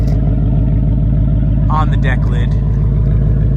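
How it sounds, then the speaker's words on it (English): A Mystichrome 2025 Ford Mustang GT RTR Spec 3 with active exhaust idling, its V8 giving a loud, steady deep rumble throughout, while someone briefly speaks over it. "Here's our nice active exhaust, sounding good."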